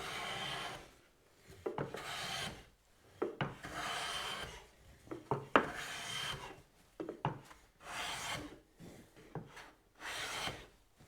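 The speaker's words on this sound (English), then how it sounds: "That's planing very nicely." A Japanese kanna hand plane shaves figured, cross-grained wood in a quiet workshop, making repeated soft, close hissing strokes, each swelling and fading in a steady back-and-forth rhythm.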